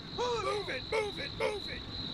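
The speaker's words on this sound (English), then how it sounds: "there's some incessant chirping of crickets" Crickets chirp in a night scene of the video game Combat Mission: Beyond Overlord, a steady high trill under repeated warbling calls, moderately loud and continuous.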